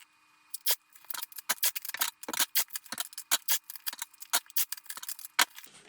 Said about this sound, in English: So I'm just gonna tape it down to make it waterproof.